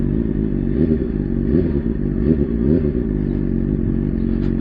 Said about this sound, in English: Ridiculous bike. Can't believe it's allowed on the road.